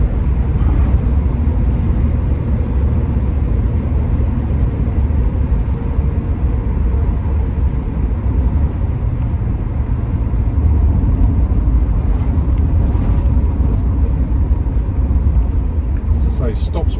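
A 1971 Mercedes S-Class W108 280S automatic drives along. Its engine and road rumble make a loud, continuous low drone, with some wind noise throughout.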